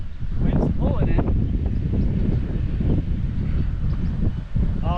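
Steady wind buffets a microphone outdoors on a golf course, a continuous low roaring rush throughout, with brief voices talking faintly underneath.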